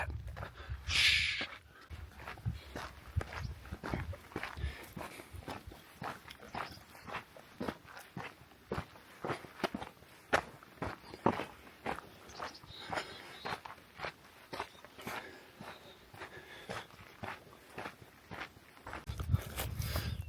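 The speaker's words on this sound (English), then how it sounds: "All you hear is the footsteps of my shoes." Shoe footsteps crunching along a quiet forest trail at Mount Laguna, a steady walking rhythm of soft, close steps continuing throughout with no talking.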